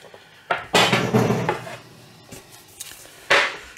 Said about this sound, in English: One baking tray